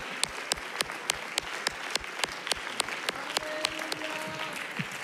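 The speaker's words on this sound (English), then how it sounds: "Let's give God a hand clap of praise." A church congregation claps in a steady, rhythmic beat of praise, sharp regular hand claps repeating about every quarter second, with faint voices underneath.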